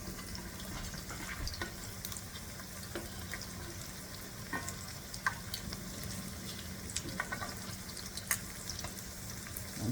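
An onion frying in a pan until brown gives a steady, close sizzle with scattered pops and light clicks throughout. No one talks.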